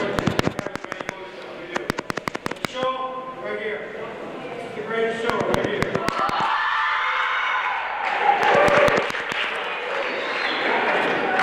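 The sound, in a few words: crowd applauding at girls basketball game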